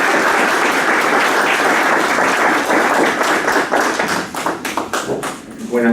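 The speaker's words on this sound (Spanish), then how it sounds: "Les pido un fuerte aplauso para el doctor" An audience applauding a speaker at an economics and politics conference in Peru, with dense, loud clapping that thins and tapers toward the end.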